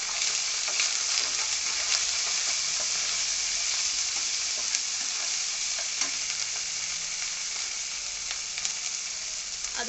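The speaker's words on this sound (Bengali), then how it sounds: "আদা রসুন ভাজা ভাজা হয়ে আসছে," Ginger and garlic paste frying with turmeric powder in a pan, a soft steady sizzle with small crackles and faint stirring scrapes throughout, with no talking.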